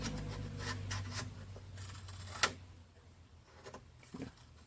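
Paper being cut on the bias with scissors or a blade for a vintage baby photo album, giving a few soft, close scraping and snipping strokes with a sharper click partway through and a quiet room underneath.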